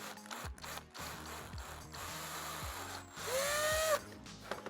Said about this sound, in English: So I'm going in with a smaller drill